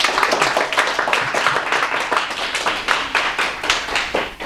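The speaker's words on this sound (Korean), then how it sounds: "축하 박수 한번 할까요?" A Korean-English church congregation claps in congratulation for a new believer. The hand claps are loud, close and brisk, with many overlapping in a continuous patter for several seconds.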